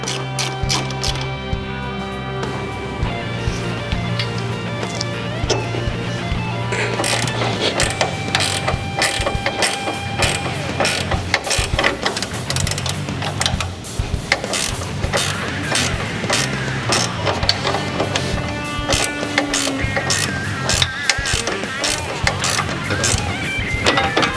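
Ratchet wrench removing strut hardware on a 2021 Polaris Ranger 1000 lift kit install, with rapid close clicking and metallic clatter in repeated runs of varying speed throughout.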